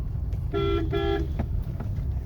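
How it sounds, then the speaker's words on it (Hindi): Two short car horn honks in quick succession, fairly loud over a steady low engine rumble, followed by faint road noise. "आगे हॉर्न दे दो।"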